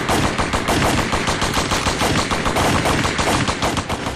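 Rapid, sustained gunfire with dense machine-gun bursts, loud and continuous throughout, used as a sound effect for the Saint Valentine's Day massacre, a police-style mass shooting against a wall.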